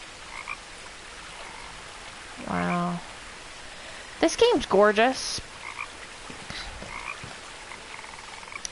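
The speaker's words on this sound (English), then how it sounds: "And I also hear a frog." A frog croaks in What Remains of Edith Finch: a short harmonic croak, then a louder burst of rapid croaks moments later, over soft ambient rain-like hiss, with a person speaking briefly.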